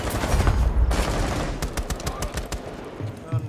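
Rapid bursts of gunfire in the tactical shooter Rainbow Six Siege, loud and close, with repeated sharp shots crackling over a dense, rumbling battle din that fades slightly toward the end.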